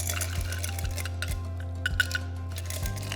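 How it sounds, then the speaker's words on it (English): Ice going into a wine glass for a cocktail, with several distinct clinks and clatters of cubes against glass over a low steady background hum, no talking. "You're going to fill that with ice, almost all the way to the top"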